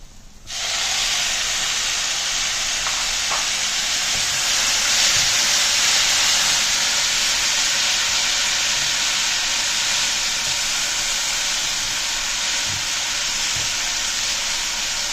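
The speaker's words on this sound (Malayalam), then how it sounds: "നമുക്കിനി വേവിച്ച് വെച്ചിരിക്കുന്ന ചക്കക്കുരു കൂടെ ഇതിന്റെ കൂടെ ചേർത്ത് കൊടുക്കാം." Steady loud sizzling of boiled jackfruit seeds being stir-fried in masala in a hot pan, a constant bright hiss with faint stirring taps, no voices.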